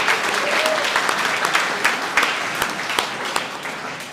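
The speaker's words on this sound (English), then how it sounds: "Give yourself a round of applause." An audience at a Newcastle 500 public town hall forum breaks into applause, a dense wash of clapping with a few sharper close claps standing out, holding steady before easing slightly.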